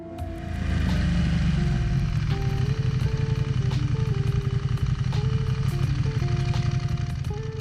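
A 2023 Ducati Panigale V2 with its stock OEM exhaust gives a loud, continuous engine note with shifting harmonic tones across gear changes, mixed with music-like tonal layers and no speech.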